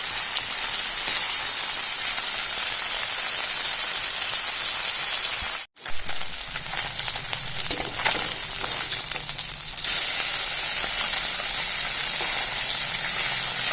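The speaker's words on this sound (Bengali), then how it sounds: "অল্প অল্প করে মাছগুলো ভাজতে হবে।" Boroli fish fries loudly in oil with a continuous hissing sizzle, broken once by a brief moment of silence, then carrying on steadily.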